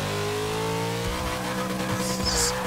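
A 1975 Ford Bronco engine in Forza 6 revs hard in second gear, a steady loud drone with shifting pitch and brief tire squeal near the end, no talk.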